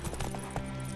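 A few horse hoofbeats clop briefly in The Witcher 3, close and moderately loud over a steady low background hum.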